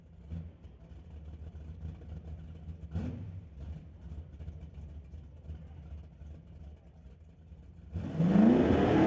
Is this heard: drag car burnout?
yes